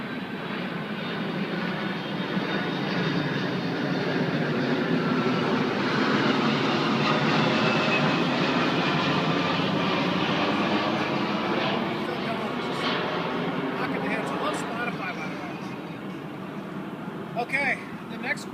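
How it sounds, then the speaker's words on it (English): An airplane passing overhead outdoors on a lake, a loud, continuous broadband engine roar that swells and slowly fades, with a voice speaking over it. "There's another plane."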